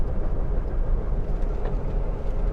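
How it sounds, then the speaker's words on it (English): A 1967 VW Karmann Ghia, a rusty restoration car on its first drive in 45 years, cruises in fourth gear with a steady, loud low engine and road drone that holds evenly throughout. "All right, we're in fourth, but doesn't really have the acceleration it needs, but it is going."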